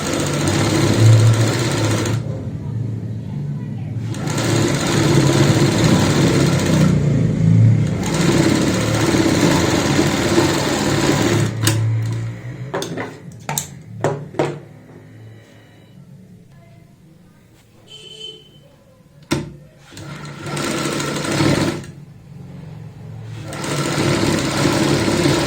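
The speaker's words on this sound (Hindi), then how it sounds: "और किनारे की सिलाई लगानी है।" A sewing machine stitches the folded edge of a kurti neckline in several long, steady runs broken by pauses, with short bursts and handling clicks in between, close and loud, with no talking.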